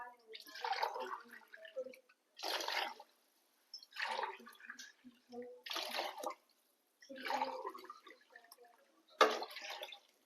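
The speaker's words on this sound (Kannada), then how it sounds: "6 ಗ್ಲಾಸ್ ನೀರು ಹಾಕೋತಿದ್ದೀನಿ" Water pours in about six separate glassfuls into three glasses of rice in a pressure cooker pot, each pour a short splashing burst with brief quiet gaps between, close and fairly soft.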